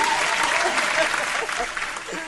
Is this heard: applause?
yes